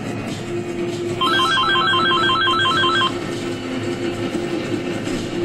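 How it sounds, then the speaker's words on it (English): An in-game phone rings in Resident Evil 5, a steady electronic trill repeating for about two seconds over a constant low background hum. "Damn phone calling me."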